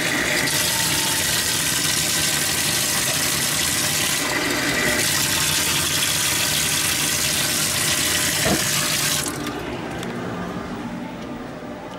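Water running from a tap into a container to make evening coffee, a loud steady rushing stream for about nine seconds that then cuts off, leaving a quieter trickle.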